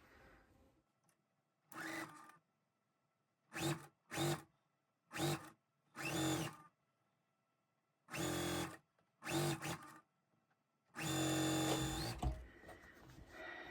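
Sewing machine stitching quilt block pieces for a twin-star basket block, heard as a series of short, close mechanical bursts with pauses in between, ending in one longer run.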